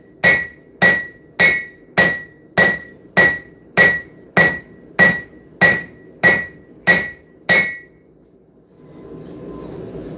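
Big hammer striking hot steel on an anvil during forging, twelve loud ringing blows in a steady even rhythm, close by, followed by a quiet pause and low shop noise.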